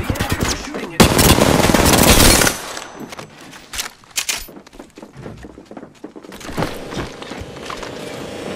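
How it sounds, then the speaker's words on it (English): Enemy gunfire in the Apex Legends video game comes as loud, sustained automatic bursts followed by scattered sharper shots and clatter, mixed with other game noise. "The enemy is shooting at me."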